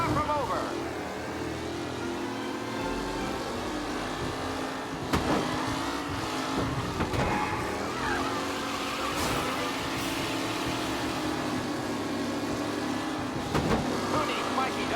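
Race cars in Mafia: Definitive Edition roar steadily as they drive, engines droning with shifting pitch, while a voice talks over the racing.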